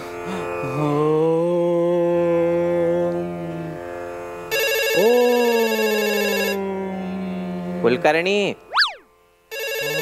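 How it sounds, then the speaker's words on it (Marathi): A mobile phone rings loudly on a Marathi comedy stage, playing a bright melodic ringtone in bursts with pauses and a sliding boing-like tone, while voices talk over it. "फोन वाजतोय तुझा."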